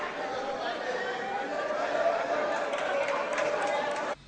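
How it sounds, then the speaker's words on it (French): Cheers and acclamation from lawmakers filling the National Assembly chamber, a steady, broad crowd roar with mixed voices that holds for about four seconds and then cuts off abruptly. "Dans l'hémicycle, des acclamations s'élèvent pour valider ce choix, y compris jusque dans les rangs de l'opposition."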